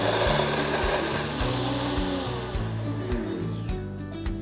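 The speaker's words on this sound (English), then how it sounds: "make sure you use a strong spice grinder" A strong spice grinder blends a thick, pasty sugar-free laddoo mixture of ghee and cardamom, producing a loud, continuous motor whir with a grinding rasp that pulses and shifts as the paste churns, heard alone without talk.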